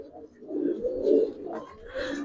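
Low, murmuring coos from a Giribaz silver pankhi pigeon, close and fairly soft, rising and falling in a few rolling phrases inside a pigeon loft.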